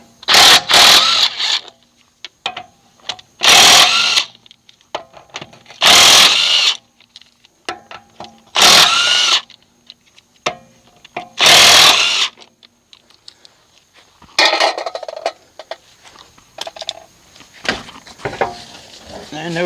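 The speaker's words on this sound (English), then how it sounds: "17 millimeter impact socket will remove the lug nuts." Impact wrench with a 17 mm socket rattling lug nuts off a 1983 Mercedes 240D wheel, five loud close bursts of about a second each separated by pauses, followed by softer clattering.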